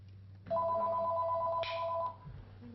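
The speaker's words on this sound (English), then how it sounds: "The phone continuously rings" A telephone rings once in a sustained electronic trill, clear and close against a quiet room.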